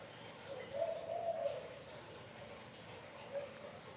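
A bird coos softly in the distance, a couple of low calls against quiet background noise.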